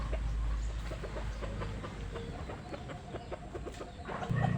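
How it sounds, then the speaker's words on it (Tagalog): Chickens cluck repeatedly close by, a busy farmyard chatter of short calls with no talking. "manok ni sa akong manghod"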